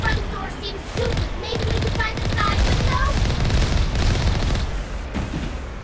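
Missiles firing and bursting around a vehicle in Mass Effect, a continuous crackling, booming barrage with rapid gunfire-like bursts, loud throughout, while a player talks over it now and then.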